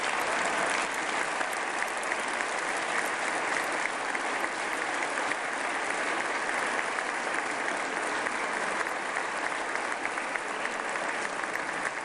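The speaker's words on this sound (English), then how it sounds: "could you give these people an incredible round of applause?" Long, steady audience applause for a school cafeteria manager at a state address, a dense, even roar of clapping sustained for twelve seconds from a large crowd.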